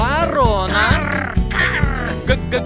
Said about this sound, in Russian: В-в-в-в-в, ворона.